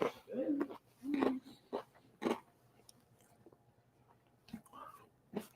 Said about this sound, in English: The bread's crunchy.